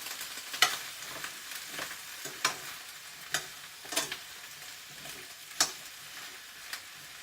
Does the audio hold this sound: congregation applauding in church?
no